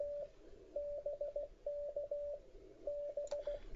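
Morse code CW keying at about 35 words per minute on a Flex radio: a steady single-pitch tone chopped into quick dots and dashes in grouped bursts with short gaps, faint hiss underneath and no talking.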